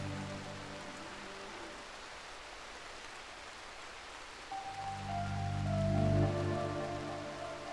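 Steady rain in the video game Rimworld, a continuous soft hiss throughout, with tonal in-game music swelling in the second half.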